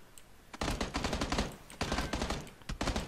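Automatic gunfire in the video game PlayerUnknown's Battlegrounds, two long loud bursts of rapid shots separated by a short pause, then a few final cracks, with no talking over it.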